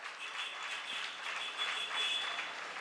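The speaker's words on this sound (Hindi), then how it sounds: "आप अनुमोदना कर रहे हो ताली बजा करके" An audience at a Hindi religious discourse claps in approval, a dense, continuous wash of many hands heard from a moderate distance, with no speech over it.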